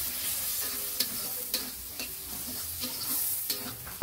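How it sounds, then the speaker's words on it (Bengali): Ground coriander and chili powder fry in a pan and sizzle steadily for a Bengali eggplant and prawn dish, with a few sharp scrapes of stirring at regular intervals. "তারপর দেবো ধনিয়া গুঁড়া, মরিচের গুঁড়া, আবারও ভালোভাবে একটু ভেজে নিব।"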